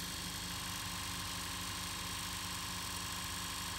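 A Brother 7100 sewing machine winds a bobbin with its motor running at a steady speed, producing a low, even whir with a fine rapid pulse and no pauses.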